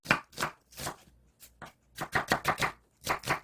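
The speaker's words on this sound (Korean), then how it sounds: "양파를 조금 얇게 요것도 이렇게 썰어주세요" Knife thinly slicing a quarter of red onion on a cutting board for jellyfish salad: a series of crisp, close cuts in quick uneven bursts, with brief pauses between clusters.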